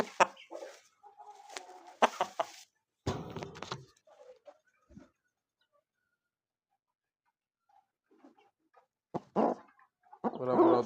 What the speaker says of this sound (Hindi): मुर्गा चेक कर लो भाई, उस्ताद मुर्गा चेक कर लो